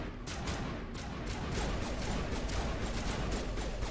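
Dense, continuous gunfire from the Mass Effect Legendary Edition game, rapid shots blending into a steady, fairly quiet crackling barrage with no gaps.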